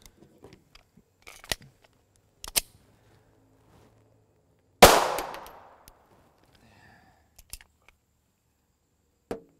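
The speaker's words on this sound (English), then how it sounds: "that was only 9 shots" Single 9x19mm 124gr FMJ pistol shot from a Smith & Wesson M&P, one loud sharp crack with a decaying ringing tail, amid scattered faint clicks and handling noises before and after.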